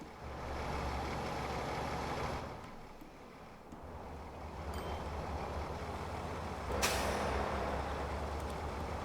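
A truck in the Transport Fever 2 game rumbles steadily, with a sudden sharp air-brake hiss near the end over a constant low engine drone.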